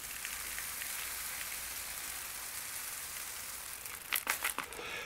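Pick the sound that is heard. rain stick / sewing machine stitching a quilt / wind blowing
rain stick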